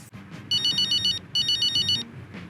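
A phone rings in an F1 23 racing game cutscene, two bursts of a bright, warbling electronic ringtone separated by a short gap, loud and close over a low background hum.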